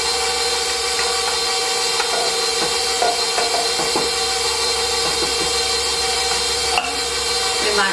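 Stand mixer mixing yeast roll dough with milk, a loud steady motor whine with constant droning tone and occasional faint clunks as the dough turns.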